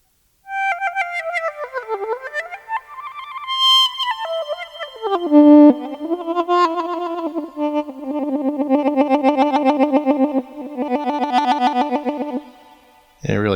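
Surge XT synthesizer lead playing MPE legato lines, gliding and pitch-bending between notes, then moving into rapid trills broken by small gaps in the sound. The tone is bright and loud and heard alone.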